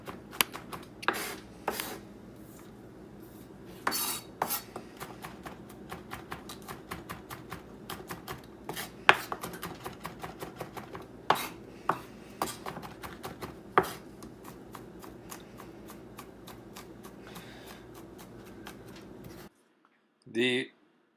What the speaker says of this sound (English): You could just cut them into a few big pieces and throw in big chunks, or make it super fine